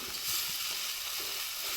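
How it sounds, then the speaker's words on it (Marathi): Peeled wal beans being mixed into sizzling masala for a village-style wal aamti, a steady frying hiss with soft scraping stirs throughout, close and continuous. "आता हे सोलेली एकदम मसाल्यामध्ये मस्तपैकी मिक्स करून घ्यायचा"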